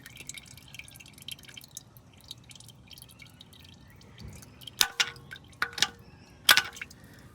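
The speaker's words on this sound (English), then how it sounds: "That's quite a bit of oil coming out of there." Motor oil drains from a Toyota 2GR-FE V6 engine, heard as a few distinct drips and splats into a catch pan over a soft background hiss, close and fairly quiet.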